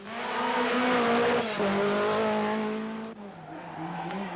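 A Renault 5 Turbo rally car at the 1983 Portugal Rally in exceptionally warm weather, its engine roaring loud and close with a sustained, shifting note that dips briefly mid-pass and again near the end. No voices.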